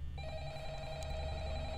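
Telephone in the Five Nights at Freddy's video game rings with a steady electronic tone that starts abruptly and holds over a low background hum.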